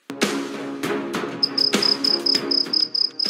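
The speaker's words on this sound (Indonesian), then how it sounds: "tetapi suara jutaan jangkrik" Dense, high-pitched cricket chirping pulses steadily in a rapid repeating rhythm, layered over rough, irregular rustling and thumping noise.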